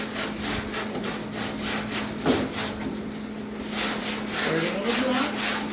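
Steady rasping strokes of a round sanding block over guide-coated bodywork on a 1968 Fastback, continuous and close with slight swells in intensity, no talking.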